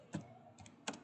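Three short bursts of keystrokes on a computer keyboard during payroll data entry, quiet and close with brief pauses between them.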